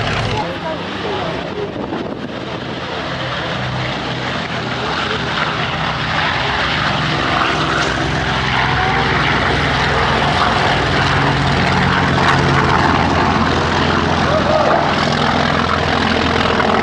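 Grumman Tigercat, Wildcat and Hellcat warbird propeller planes take off at an air show, with a loud, sustained engine drone that builds steadily and fills the whole stretch.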